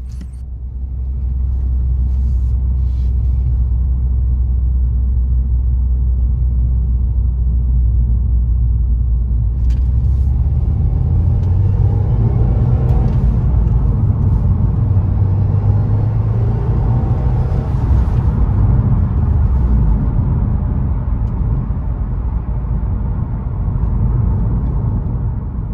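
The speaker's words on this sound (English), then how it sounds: "The noise of the turbo is quite apparent, which I like." Cabin of a 2021 Subaru WRX with a six-speed manual, its turbocharged engine giving a steady low rumble that rises and falls through gear changes, with a faint turbo whoosh above it. The engine runs continuously at even loudness throughout, and no one speaks.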